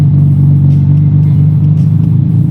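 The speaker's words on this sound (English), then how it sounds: "Just listen to this thing idle." A 24-year-old Ferrari 550 Maranello's engine idles close by, a loud, steady low burble with a faint rhythmic pulse throughout, with no talking before it cuts off abruptly.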